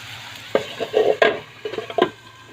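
Vegetables with tomato being stirred in a pan, several scraping spoon strokes over a low sizzle, close and uneven in rhythm.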